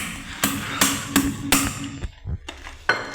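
A hammer strikes a pipe that has burst and sprays water, landing four sharp, evenly spaced blows close by. A brief pause and a couple of softer knocks follow, then one more blow near the end.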